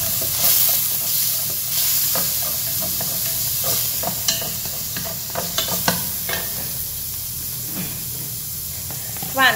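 Tomatoes stir-fry in a hot pan with salt for a Vietnamese amaranth and minced pork soup, a constant sizzling hiss broken by repeated scrapes and taps of a utensil against the pan.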